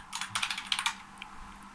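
Quick bursts of computer keyboard typing as a quiz question is entered, a close run of clicky keystrokes clustered in the first second, then a pause with one stray tap.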